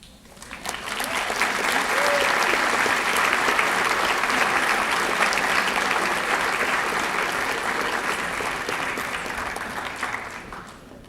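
Sustained audience applause at a 2007 high school senior academic recognition ceremony, swelling quickly and holding steady for about ten seconds before easing off at the end.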